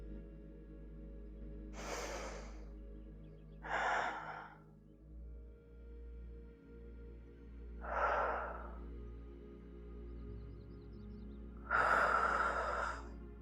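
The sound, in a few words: deep breathing during yoga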